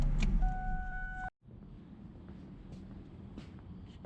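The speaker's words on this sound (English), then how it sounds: "we're gonna pull Mason's truck in." A 2004 Cummins diesel pickup truck being pulled into a shop, its low engine rumble joined by a steady whine that cuts off abruptly, then a continuous moderate rumble resumes, with no talking.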